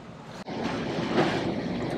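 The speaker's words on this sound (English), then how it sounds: "There are some waves that are really big. We just got one." Big sea waves surge against a sailing boat at sea, a steady loud rush of water and wind noise that swells after a brief dip, with no voices.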